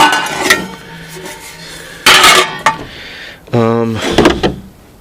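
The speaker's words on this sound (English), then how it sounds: "More aluminum pans." Lightweight aluminum pans clatter and scrape as they are picked up and set down at a tag sale, several sharp clanks with a few words spoken between.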